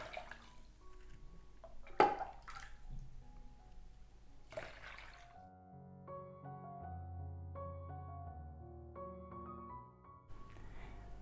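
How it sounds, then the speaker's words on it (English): Chicken soup broth is poured and strained to catch small bones, with splashing and dripping liquid up close in the first few seconds, followed by softer trickling. "I'm straining out the broth just to make sure there's no little bones in it."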